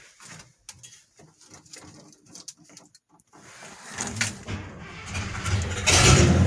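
A Marlin with an original 327 engine and column-shifted Flash-O-Matic cranks and fires up, scattered clicks and short bursts giving way to a rising, steady close engine run that grows louder toward the end.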